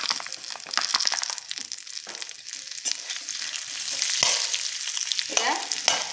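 Seedless dates being sautéed in a pan with dry fruits for laddu, a steady crackling fry with scraping stir strokes throughout, close and moderately loud, no talk.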